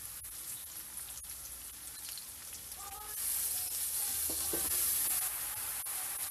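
Pechay (bok choy) drops into a hot pan, and a loud, bright sizzle swells midway and keeps hissing steadily, with light stirring clatter.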